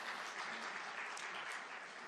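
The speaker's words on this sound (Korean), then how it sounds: "우리 큰 박수로 환영해 주시기 바랍니다" A church congregation gives quiet, even applause during a Sunday Thanksgiving service as children come forward to perform, the clapping sounding soft and somewhat distant.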